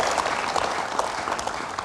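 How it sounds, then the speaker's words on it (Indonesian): A crowd at a political talk event applauds, the clapping dense and even for about two seconds with no voices over it. "mau tepuk tangan dulu"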